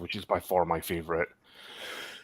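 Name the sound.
cough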